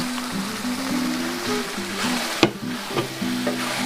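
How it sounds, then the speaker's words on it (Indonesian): Rawon spice paste with ground coriander, salt and mushroom stock frying in a large pot of beef rawon, stirred with a steady sizzle, a low humming tone underneath, and a few sharp utensil knocks against the pot. "Ini terus diaduk-aduk sampai bumbunya ini matang ya teman semua"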